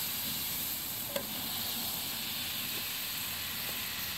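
A stick of butter sizzles in a hot pan at a backyard barbecue cook, a steady close hiss with one small crackle, continuing without talk.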